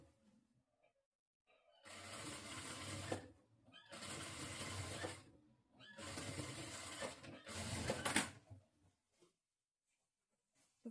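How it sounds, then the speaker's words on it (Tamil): A sewing machine stitches saree cloth for an umbrella dress in four steady runs, each a second or so long, separated by short pauses, with a loud, close, continuous mechanical whir and no talking. "இந்த மாதிரி ஸ்டார்டிங் டு எண்ட் வரைக்கும் இழுக்காமல் ஃப்ரீயாக விட்டு தைங்க."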